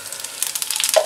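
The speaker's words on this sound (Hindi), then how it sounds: "इसके लिए मैंने पैन में मस्टर्ड ऑयल लिया है 2 चम्मच, और अब मैं इसमें मसाले ऐड कर रहा हूँ।" Spices frying in two spoons of mustard oil in a pan, a steady close crackling sizzle with small rapid pops throughout, no talk.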